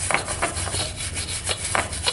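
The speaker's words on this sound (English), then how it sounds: "But I come back with just a wire brush" A wire brush rubs back and forth over the rusty frame of a Stair Master 4000 stepper, giving a series of close, rhythmic scraping strokes with no voices.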